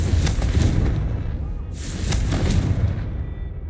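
A Confringo blasting curse in Hogwarts Legacy goes off as a loud, booming explosion, with a second burst of blast noise following about two seconds later and low rumble throughout.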